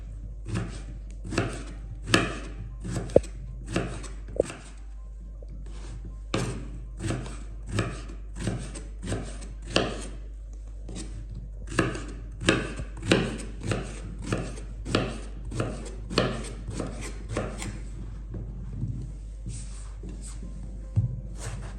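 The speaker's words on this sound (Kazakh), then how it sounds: "Баклажанымызды турап осылай дайындап алдық." A knife chops eggplant on a cutting board for a crispy eggplant salad: a long series of crisp, close knife strikes at a steady, roughly once-per-second rhythm, with no talking.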